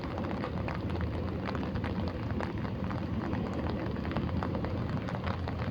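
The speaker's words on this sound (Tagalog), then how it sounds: "Kanina pang tanghali umuulan eh." Steady rain falls along Roxas Boulevard in Manila, a dense, even hiss with scattered droplet ticks, continuous and fairly close throughout, with no talking.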